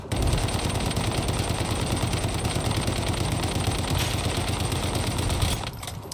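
A video-game gun empties a full magazine in one sustained, loud burst of rapid automatic fire with no buffs applied, the steady roar running unbroken for several seconds before cutting off abruptly near the end.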